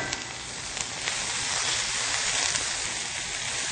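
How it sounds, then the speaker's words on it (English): Vegetables sear in a hot pan for a stir fry, giving a steady, loud, broadband sizzle with faint crackles that holds evenly throughout, with no voices. "we're getting a nice searing effect"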